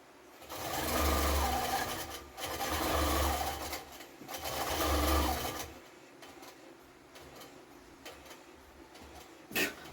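A domestic sewing machine stitches in three sustained bursts of a few seconds each, a steady close mechanical whir with brief pauses between runs, followed by quieter handling noise.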